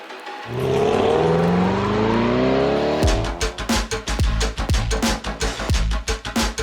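A Chevrolet Corvette Stingray R, the 2021 C8, starts with a rising engine rev that swells steadily and loudly for several seconds, then breaks into a run of sharp, rapid throttle blips. It is heard up close with no talking.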